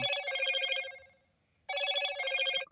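A phone rings in two electronic bursts separated by a short pause, moderately loud and alone with no talk over it.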